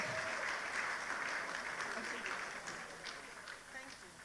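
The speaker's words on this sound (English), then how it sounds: "Please give these lovely princesses a round of applause." An audience at an International Women's Day seminar applauds a group of young girls, dense clapping that is fairly faint and gradually thins, with voices murmuring underneath.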